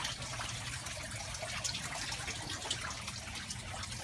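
Water flows steadily through the PVC pipes of an aquaponic system, a soft continuous trickle and gush with no break, moderately quiet and with no one talking.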